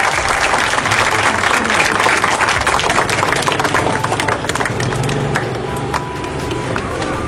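A hall audience claps loudly for an honoured guest at a community event, a dense, even wash of applause that tapers slightly near the end, with some background voices.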